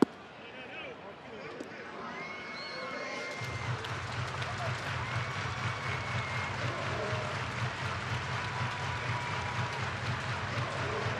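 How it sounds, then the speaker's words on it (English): A ballpark crowd at a Rangers vs. Giants baseball game claps along in a steady rhythm to music over the PA, the clapping swelling after a quieter opening while voices talk over it. "everybody clap your hands, right?"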